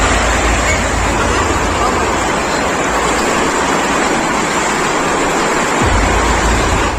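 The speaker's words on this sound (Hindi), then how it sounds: "देखो पानी कितना हुआ है, इतना सारा पानी" Floodwater rushing across the area during a flood in Tamulpur, a loud, steady broadband roar that continues unbroken throughout, with the low rumble briefly dropping away near the end.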